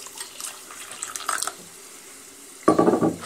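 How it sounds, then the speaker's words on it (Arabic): Lukewarm water is poured into a glass holding sugar and a small spoon of bread yeast. Faint kitchen clinks come first, then a short, fairly loud splashing pour near the end. "غادي نضيف عليهم شويه ديال المدافي"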